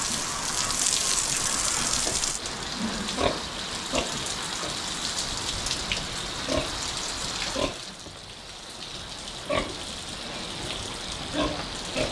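Strong, high-pressure water gushing from a tap during the rainy season on a pig farm, a steady broadband rush that runs close and loud throughout, with a few soft knocks and clatters over the flow.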